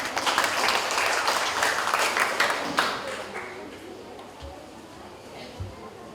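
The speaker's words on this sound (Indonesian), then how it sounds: "Kita beri aplaus untuk Ibu Komite." Applause from a school farewell and graduation crowd greeting the school committee member, loud, dense clapping for a few seconds that thins and fades toward the end, with a couple of stray claps.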